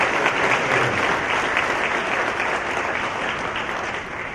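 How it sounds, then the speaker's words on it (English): A crowd at a high school hall of fame ceremony applauds honorees, dense sustained clapping that stays strong and even, tapering only slightly toward the end. "let's give them a round of applause"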